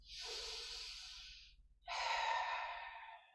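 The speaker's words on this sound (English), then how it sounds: "Two more breaths." Two deep, close breaths during a strength flow exercise class, each a long breathy exhale or inhale of about a second and a half, with a short gap between them over a low background hum.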